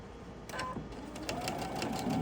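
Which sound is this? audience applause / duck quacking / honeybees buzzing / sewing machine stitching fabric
sewing machine stitching fabric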